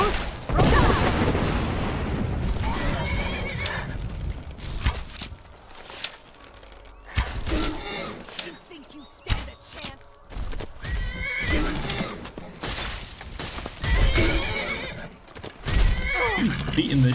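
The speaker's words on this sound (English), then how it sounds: "Beating the crap out of my horse." Horse neighing and whinnying while under attack in Skyrim, repeated loud cries mixed with hoofbeats, thuds and combat noise, with someone talking over much of it.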